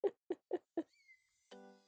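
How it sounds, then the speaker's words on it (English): A pet cat meows four times in quick, evenly spaced calls, followed by soft game music with a sustained tone, heard during a relaxed World of Warcraft session. "The meows you're hearing are actually Skittle her meows."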